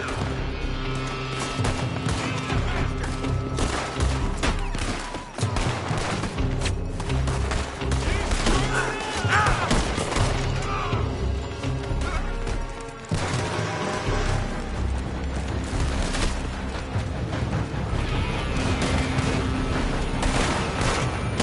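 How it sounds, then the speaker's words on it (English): Dense gunfire from a building in Red Dead Redemption 2, a steady loud barrage of overlapping shots and crashes mixed with game music and effects, with brief voices underneath. "They're shooting from that building."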